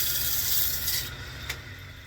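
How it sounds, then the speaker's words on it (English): Steady dry rasping of sandpaper rubbing against a wooden bowl, continuous for about a second before easing off into quieter scratching, close and fairly faint. "So I'll spend a little bit more time sanding."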